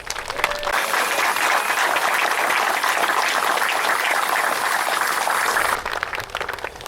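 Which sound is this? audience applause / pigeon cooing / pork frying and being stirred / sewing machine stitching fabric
audience applause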